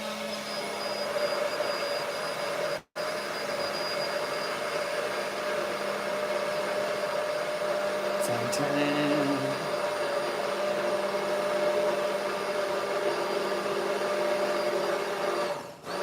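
An immersion arm blender whirs steadily while blending sunflower oil for a fish pie sauce, a continuous motor hum with a brief cut-out early on, heard alone without talk.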